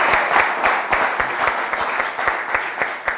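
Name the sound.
applause from audience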